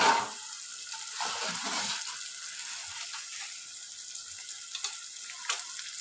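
Mutton curry sizzles and fries in a pan with a constant bright hiss and a few soft crackles and pops, fairly close but quiet, with no talking.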